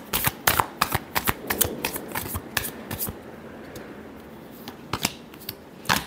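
Tarot cards being shuffled by hand, a series of sharp riffling bursts in quick succession, close and crisp, with a brief pause before a few final snaps.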